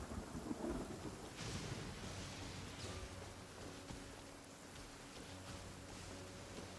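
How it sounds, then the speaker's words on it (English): A perpetual thunderstorm in the game Genshin Impact brings steady rain hiss, with low thunder rumbling near the start and through the rest, plus a faint tonal hum from the game. "we have arrived at a region that is perpetually in storm"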